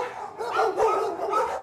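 Dogs in cages at the Santa Rosa Animal Shelter give several close, loud barks and yips in quick succession.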